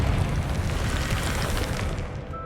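A blasting curse explodes in Hogwarts Legacy, a loud rumbling burst that stays dense and roaring throughout before easing slightly at the end, with no voices over it.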